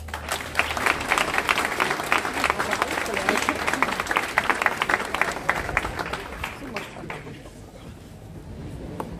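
Audience applauding at a civic reception in Iserlohn during the Schützenfest, welcoming the mayor of Ternopil; dense, steady clapping from a sizeable crowd that thins out toward the end.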